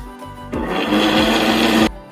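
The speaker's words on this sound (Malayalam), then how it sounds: "കറിവേപ്പില, ഇഞ്ചി, ഉള്ളി, ഇതെല്ലാം കൂടെ നമ്മൾ മിക്സിയിലിട്ട് അരയ്ക്കാൻ പോവാണ്" An electric mixer grinder whirs loudly as it purees curry leaves, ginger, onion, tomato and green chili with a little water for fish curry. The motor surges up abruptly, runs for about a second and a half, then cuts off.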